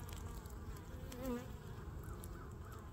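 Robber bees swarming around a lone beehive, a dense steady buzz of many insects close by, with individual bees flying past now and then, and no talking.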